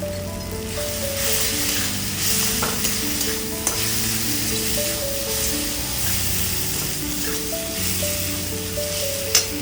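Ground turmeric and Kashmiri chilli powder frying in a pan with softened tomatoes and onions for a Bengali fish and taro curry: a loud, continuous sizzle with stirring scrapes, while a tonal melody plays underneath.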